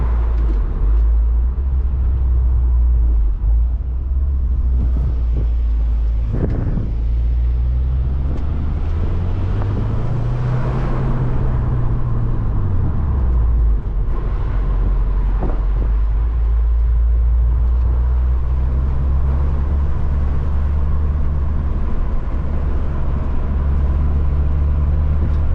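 A 2024 Subaru WRX with a manual transmission is under way, its steady engine drone rising and falling through a gear change over constant road and wind roar, with no talking.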